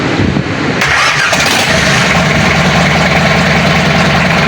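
A boat engine being installed and started, turning over and catching, then settling into a loud, steady rumbling idle close by with no talk.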